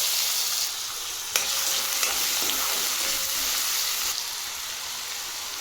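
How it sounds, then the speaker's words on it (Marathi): Green chili and potato fry in hot oil in a wok with a constant close hiss, broken by a few clanks and scrapes of stirring. "बटाटा 1 मिनिट चांगलं परतून घेतला आहे."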